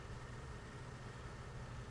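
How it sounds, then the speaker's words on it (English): Car engine starting up and idling in the prison-building game Prison Architect, a low steady rumble with a faint droning hum, continuous and unvarying over its short span. "Sounds like a car's starting up."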